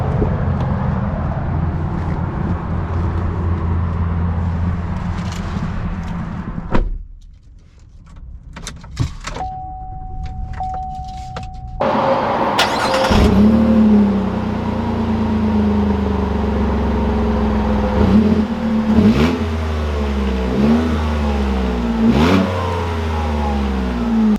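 A 2021 GMC Canyon AT4 truck rumbles at idle, then goes quiet briefly while a steady chime sounds. Its engine then picks up and accelerates repeatedly, the pitch rising and dropping through gear changes as it drives off.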